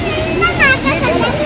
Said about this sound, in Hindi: ये है भाई टाइगर वाटरफॉल।